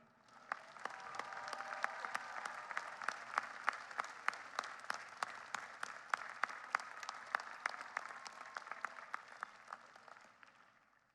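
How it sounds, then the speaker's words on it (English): A large audience applauds at a 2025 undergraduate commencement ceremony, a long, sustained wash of many hands with sharper individual claps popping through, swelling in and tapering off over about eleven seconds without talk. "Please give them the round of applause they deserve."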